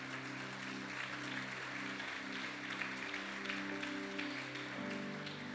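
Church congregation applauding together, a steady wash of clapping with a low musical hum beneath it, moderately loud and continuous throughout.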